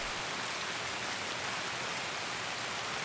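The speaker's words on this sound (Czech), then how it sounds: "Déšť, to není úplně ideální počasí." Steady rain falling in the video game Escape from Tarkov, a dense, even hiss of drops with no talk over it.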